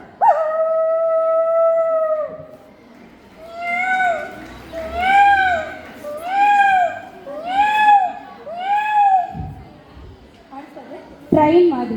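A woman performer imitating a dog's howl: a long sustained note, then a run of five rising-and-falling howls in steady rhythm, loud and close, with brief crowd noise at the end.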